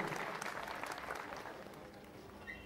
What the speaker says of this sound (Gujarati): એમને એકવાર જોરદાર તાળીઓથી મિત્રો વધાવી લ્યો